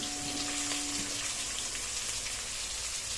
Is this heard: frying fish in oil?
yes